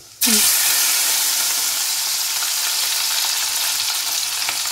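Whole garlic cloves drop into hot oil tempered with black cumin seeds, setting off a sudden loud, steady frying sizzle that holds bright and continuous for several seconds without talk.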